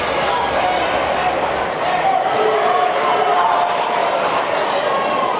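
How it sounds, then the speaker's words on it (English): A crowd at a high school basketball game between Unaka and Hampton reacts unhappily after an opposing three-pointer, producing a continuous loud roar of mixed voices that fills the gym with no clear break. "Crowd not happy."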